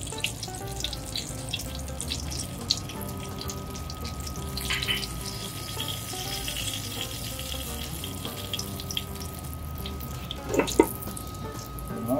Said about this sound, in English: after the oil gets hot, you wanna add the rest of that curry to the oil